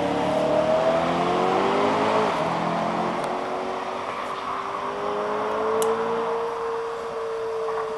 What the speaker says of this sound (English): You can hear the cars coming.